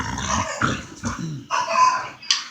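A pit bull growls and snarls up close in loud, rumbling bursts with short gaps, the sound rising and breaking as it lunges and tries to bite.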